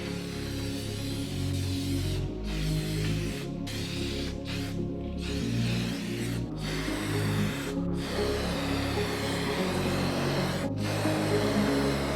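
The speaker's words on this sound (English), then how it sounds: "Let's spray this on and let it get to work" Silicone spray hisses in repeated bursts onto a 2015 Honda CBR 600RR motorcycle during reassembly, each spray steady and close, separated by short pauses, over a constant low background hum.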